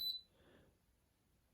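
A single short electronic beep from a Hotpoint NSWA843C washing machine's buttons, followed by a faint low rumble and near silence.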